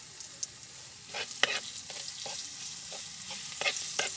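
Potatoes fry quietly in oil with a faint steady sizzle, broken by several soft clinks and scrapes as they are stirred, and no talking.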